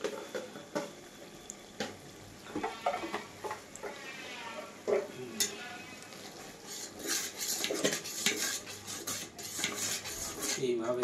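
A spoon scrapes and clinks against a pot while chicken biryani ingredients, including chilli and oil, are gently stirred. The irregular metallic taps and scrapes sound close, with faint kitchen noise and occasional voice in the background.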